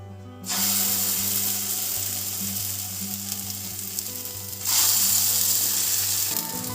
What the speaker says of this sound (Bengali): ফোড়নটা হয়ে গেছে। এবার আমি এর মধ্যে দিয়ে দেব এই বিট বাটাটা